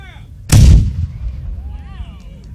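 A ceremonial cannon fires a single loud, booming Fourth of July salute outdoors, the sharp blast followed by a rumbling tail that fades over about two seconds, with faint whistles or chirps in the background.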